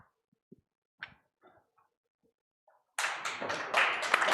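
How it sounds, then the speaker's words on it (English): A few scattered faint taps and knocks come first, then a small audience at a livestreamed masterclass bursts into close, loud clapping that continues steadily to the end. "Applause."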